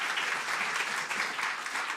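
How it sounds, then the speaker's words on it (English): Audience applause at a celebration event honoring Pheroze Nowrojee, a sustained wash of many hands clapping at moderate volume, steady throughout with no talk over it. "Please give Issa another big round of applause, ladies and gentlemen."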